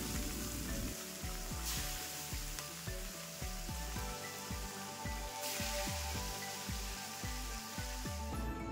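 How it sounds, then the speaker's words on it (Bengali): Small parshe fish fry in oil in a frying pan with a soft, steady sizzle, quiet and unbroken, with no one talking. "এই একইভাবে অন্য মাছগুলো ভেজে নেব।"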